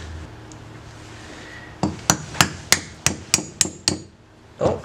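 Eight sharp metallic hammer taps land on a bolt at a steady rhythm to drive parts out during work on a 1977 Honda Trail 90 motorcycle, close and loud, after a quiet stretch.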